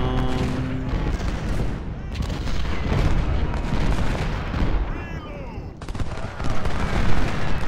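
Musket volleys and cannon fire from a Gettysburg battle in the Civil War strategy game Ultimate General: Civil War crackle and boom continuously, loud and dense, with overlapping shots and heavy thuds throughout.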